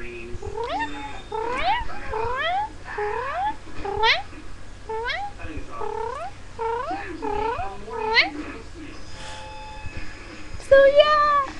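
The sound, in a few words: person imitating a cat noise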